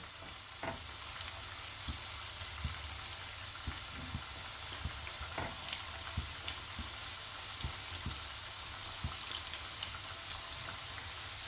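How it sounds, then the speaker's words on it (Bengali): Potato wedges deep fry in hot oil, a continuous bubbling hiss broken by scattered sharp pops and light clicks as they are turned, close by with no talking. "এইবার আলুগুলোকে একটু ওলট পালট করে দেব, করে লাল করে ভাজতে হবে।"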